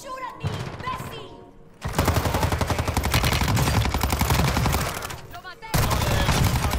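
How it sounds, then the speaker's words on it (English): Rapid video game gunfire in Warzone on the Vondel map, dense bursts of automatic shots that stop and start again, loud and close, with brief speech in the gaps. "Don't shoot at me, Bessie!"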